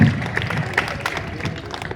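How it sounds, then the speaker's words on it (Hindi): A crowd at a public event in Lohardaga claps to welcome a guest, a short burst of brisk applause with some murmuring voices underneath. "जोरदार तालियों से स्वागत करेंगे"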